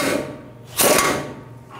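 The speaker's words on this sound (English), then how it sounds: "I'm just gonna snug up the nut a little bit before we torque it." A wrench snugging up the nut on an inner tie rod of a 2010-16 Buick LaCrosse gives one short, loud rasping mechanical burst up close, with quieter workshop noise before and after.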